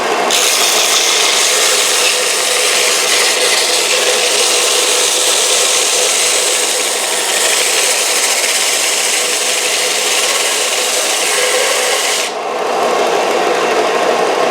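Harbor Freight 4x36 belt and disc sander running 80 grit against oak pallet wood, a loud continuous abrasive rasp with steady motor drone that drops off sharply near the end as the wood is lifted away.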